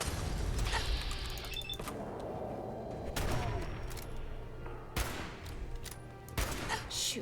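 Scattered gunfire in Fallout 4, moderately quiet, with sharp separate cracks and short bursts over a steady background of game ambience and mechanical clatter.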